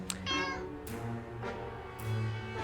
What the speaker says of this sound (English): Oh, we got a little cat! Look at the little cat!